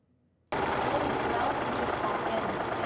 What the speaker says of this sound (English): The sound of a sewing machine winding thread has become a regular noise at this Provo apartment.